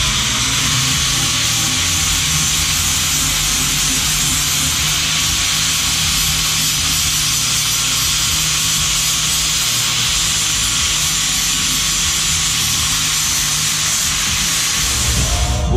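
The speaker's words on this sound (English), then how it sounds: "We're going to have to grind this and smooth it off a little bit, get all the burrs off of it" A metal part for a C-clip eliminator swap is ground and deburred in one continuous harsh, loud, close grinding hiss, steady throughout.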